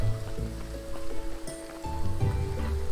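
Strange red rain falling in the video game Graveyard Keeper, a soft steady patter and hiss under low game ambience, with faint background tones and a few light clicks.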